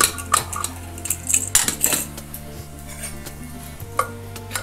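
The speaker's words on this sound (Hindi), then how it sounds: "तो चलिए अब हम इसमें दाल डालते हैं।" Cooked dal goes into a pan of tadka spice mix, with metallic clanks and scrapes of a spoon against the pan and a soft sizzle, close and irregular, with no talk.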